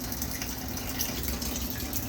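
A home-made water heater with a pilot light delivers a constant, soft stream of near-boiling water. The flow has an even gushing hiss throughout and no one speaks.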